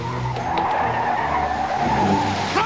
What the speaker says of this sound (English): He jumped into his car and followed Jessica's Packard through the Toontown tunnel.